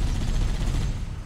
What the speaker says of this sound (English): They shooting at me like crazy.